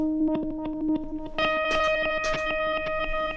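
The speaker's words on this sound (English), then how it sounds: "The DL4 I use for more so experimental delay sounds like this one." Electric guitar notes ring out through a Line 6 DL4 delay pedal, each pluck repeating and smearing into a shimmering, echoing wash that thickens halfway through.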